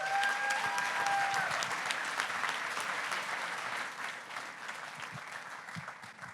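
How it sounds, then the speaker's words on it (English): An audience applauds the founders at a startup demo day, a full, sustained round of clapping that starts strong and gradually thins and softens toward the end. "Let's give one more round of applause for our amazing founders."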